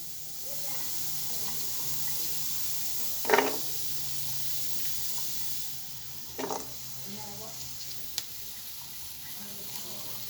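Cashew nuts fry in a hot pot with a constant bright sizzle, broken by a couple of brief scraping stirs and a faint tap, close by and without speech.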